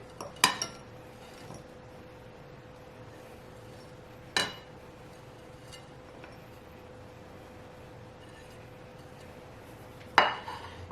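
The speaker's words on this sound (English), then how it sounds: "So I'm just going to put these into this bowl that I have here" Chopped madeleines dropped into a bowl for a strawberry shortcake, giving a few sharp clinks spaced several seconds apart over a quiet background hum.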